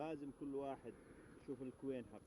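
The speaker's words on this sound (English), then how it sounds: "each little box here of bees, each of them have a queen bee" Honey bees buzz around beehive boxes at an apiary in Al-Hudayda, Yemen, the close drone swelling and fading in a few uneven bursts.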